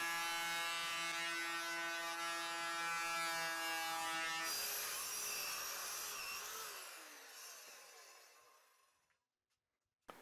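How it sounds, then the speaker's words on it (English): Salvaged wood boards from an old truss beam fed through a power planer: a loud, steady high whine with buzzing cutter tones, shifting in pitch midway as the board passes, then winding down to silence. "I think I'm just going to run them through the planer to clean up the backsides a little bit"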